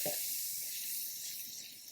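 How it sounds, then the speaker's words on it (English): Onions sizzle in hot olive oil in a pan, a steady, bright hiss that stays even and moderately quiet, fading slightly over a couple of seconds. "Want to hear that nice sizzle."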